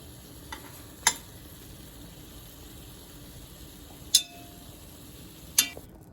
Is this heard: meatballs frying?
yes